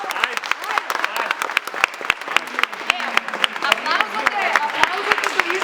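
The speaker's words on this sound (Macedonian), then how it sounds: "Аплаузот за изборната комисија која што си превзима одговорност за ова" A room of students at a student election claps for the election commission, sharp individual claps in a fairly sparse, rhythmic pattern with voices talking over them.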